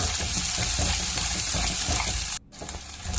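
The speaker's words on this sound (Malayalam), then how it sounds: "ഒരു 10-20 ചെറിയ ഉള്ളി പച്ചത്തിലരിഞ്ഞത് ചേർത്ത് കൊടുത്ത് വഴറ്റുക" Ten to twenty small sliced shallots sauté in a pan for a mackerel chilli curry, giving a constant close sizzle and crackle with a brief cut-out near the end, with no talking.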